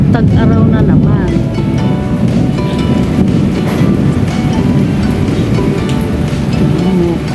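Thunder rolls through a rainy storm, a loud, deep continuous rumble mixed with heavy rain noise, while a voice talks over it near the start.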